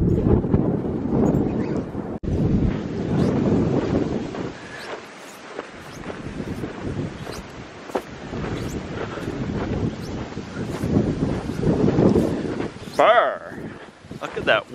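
Outdoors on a homestead near a goat pen, wind buffets the microphone in heavy, uneven gusts that roar for the whole stretch. A person talks now and then under the rumble.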